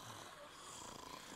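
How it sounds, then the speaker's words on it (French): A wolf snores in the fantasy game Le Maître du Donjon de Naheulbeuk, giving a soft, low, breathy rumble that runs continuously and faintly. "Un loup qui ronfle."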